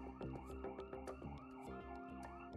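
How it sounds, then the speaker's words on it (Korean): A security alarm siren set off by pressing its panic button wails continuously with rising and falling electronic tones, loud and steady throughout the short burst with no talk. "사이렌 버튼을 딱 누르면 사이렌이 들어옵니다."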